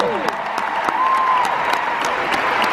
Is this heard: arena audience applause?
yes